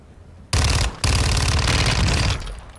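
Rapid automatic gunfire in Warzone 2.0, two loud sustained bursts separated by a short pause, close and dominant with no talk.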